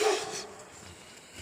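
A large dog lets out a single deep bark near the start, fairly close, then only faint outdoor ambience follows.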